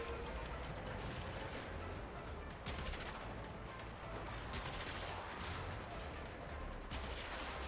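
Rapid gunfire from a player's weapon in the sci-fi shooter Warframe, dense and loud, with repeated sharp bursts layered over a thick, constant rumble of combat noise.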